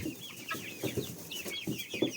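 In a barn, a big, sturdy rooster and a flock of grown chickens cluck in short, irregular bursts close by, overlapping soft calls with brief higher squawks.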